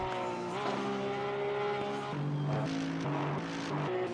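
Aston Martin GT race car engine in Assetto Corsa Competizione at Bathurst, loud and continuous with a droning tone that steps up and down through gear shifts, nearby and alone without talk.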